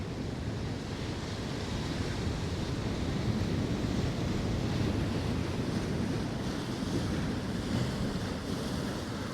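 Strong wind at a winter sea shore during fishing, a steady, dense roar of gusts and buffeting against the microphone, blending with the surf, with no voices.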